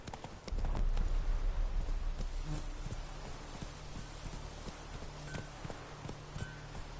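Horse hooves galloping in The Witcher 3, a steady rapid clip-clop rhythm close and fairly loud throughout, with a low rumbling background and no talking.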